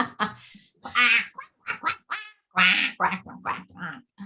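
A person imitates a squeaky, garbled cartoon duck voice in a string of short nasal quacking bursts, close and loud.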